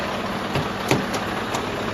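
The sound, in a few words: truck moving forward slowly to unhook the gooseneck trailer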